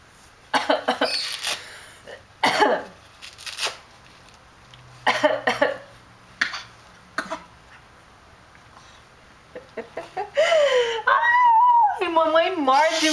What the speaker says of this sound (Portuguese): Tosse, tosse.